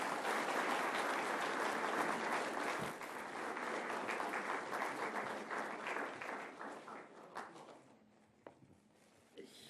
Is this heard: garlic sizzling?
no